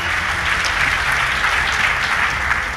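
A church congregation applauds during a service, dense and loud, with continuous clapping filling the whole stretch.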